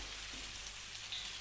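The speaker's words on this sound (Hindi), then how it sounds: "हमने ना अब इसको अड़ते पुलते हुए फ्राई करना है तकरीबन 4 से 5 मिनट तक" Garlic chicken fries in a pan, a brief, even and steady sizzling hiss heard close with no stirring accents and no voices.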